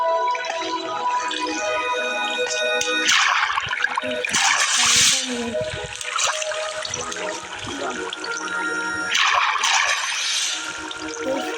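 Flowing water from a water elevator in the Minecraft video game rushes and trickles steadily, with louder splashing surges in between, under a voice speaking.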